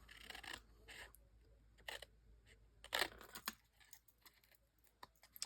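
Scissors cut paper at an angle for a mini album craft, a few short, quiet snips and rustles spaced irregularly over a hushed background.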